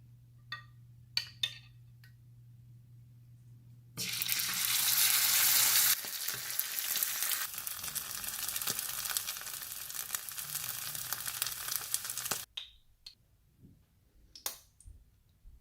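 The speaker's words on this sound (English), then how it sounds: "I have done with frying paneer." Marinated paneer hits hot cooking oil in a pan with a sudden loud sizzle that stays strong and steady for several seconds, then cuts off, with faint clicks before and after.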